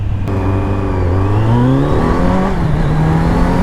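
Kawasaki Z900 motorcycle from 2020 revving hard under throttle, a loud, close engine note whose pitch climbs steadily, then briefly falters and climbs again as traction control cuts in, with no talking.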